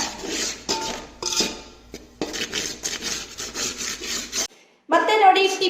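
Mysore pak mixture being fried in a pan, heard as close, repeated scraping and rubbing strokes of a utensil against the pan in uneven bursts, with a short silent pause before the stirring resumes.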